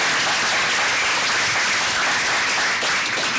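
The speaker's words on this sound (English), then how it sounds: "big round of applause, you guys" A dense, steady round of applause from a convention panel audience, loud and close throughout with no pause, and only faint voices underneath.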